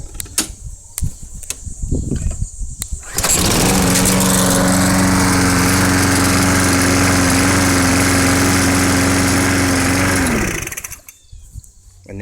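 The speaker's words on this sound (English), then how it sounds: "So I'm going to go ahead and try to start this thing now that I've cleaned up the" A Briggs & Stratton ReadyStart lawn mower engine, just after its carburetor was cleaned, comes after a few mechanical clicks. It fires up loud and close, runs at a steady drone for about seven seconds, then winds down and stops.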